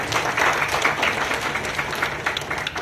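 Audience applause at a Rotary club inauguration in Thane, a dense, even wash of many people clapping, fairly loud and continuous for the whole stretch.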